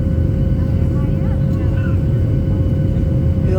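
Airliner engine roar during takeoff from London Stansted, bound for Fuerteventura, heard from inside the cabin as a loud, steady low rumble that fills the whole stretch, with faint tonal whines drifting above it.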